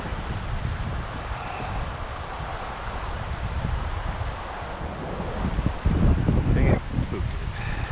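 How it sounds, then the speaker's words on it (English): Wind gusts roar steadily into the microphone beside the Madison River while fly fishing, with rustling swells and a stronger blast near the end; a voice is faintly present. "the wind keeps kicking my fly too far up"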